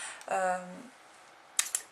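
Small scissors cut into a Lancôme foundation sample sachet, giving two quick, crisp snips near the end after a short spoken phrase.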